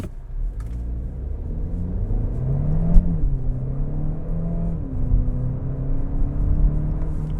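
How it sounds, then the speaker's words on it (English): Hyundai Elantra N-Line sedan on a test drive gives a steady low engine rumble with gentle rising and falling revs, close and continuous, no talking. "let's take the Elantra N out for a test drive"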